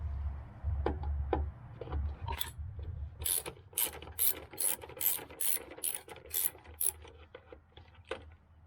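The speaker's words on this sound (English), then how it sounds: "I'm going to remove this bolt." A hand ratchet clicks rapidly in short bursts while loosening a 10 mm bolt on a VW Golf Mk2, near and fairly quiet, with a few separate metallic taps before the quick ratcheting runs.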